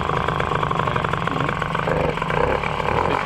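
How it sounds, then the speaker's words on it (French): A Tomos moped engine idles steadily as it warms up, a close, even, buzzing putter with no other sounds over it. "la machine est démarrée, elle chauffe tranquillement"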